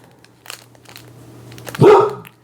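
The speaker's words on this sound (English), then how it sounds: "the dog went outside to bark" A pet dog barks once loudly and close indoors, preceded by some faint yips and whimpers over a low steady hum.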